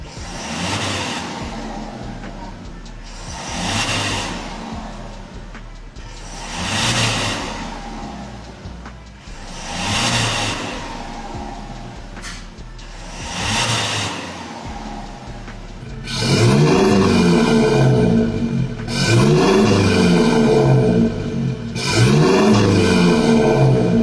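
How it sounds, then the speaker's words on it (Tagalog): A Toyota Innova fitted with a full exhaust, a Spitfire Thunder muffler and a Spitfire dual tip, revs repeatedly in loud roaring pulses about every three seconds, ending in heavier, sustained revs. "pakinggan na po natin yung sound check nung nagawa nating full exhaust dito sa kotse na to"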